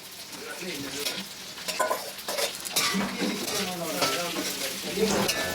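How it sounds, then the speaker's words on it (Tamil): Chopped onions fry and get stirred in a pan for a South Indian chicken fry, a steady close sizzle broken by scraping spoon and metal clinks against the pan, with faint voices now and then. "நல்லா பொரியுது"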